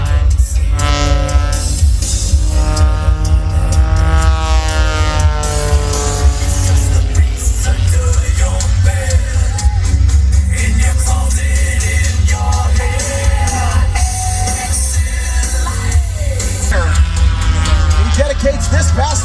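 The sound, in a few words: aerobatic aircraft engine tumbling across the sky at air show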